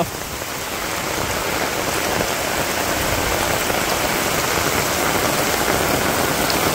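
Steady, dense rain falls on a village in Bangladesh during the rainy season, a loud even hiss of drops on surfaces that continues without a break, with no voices.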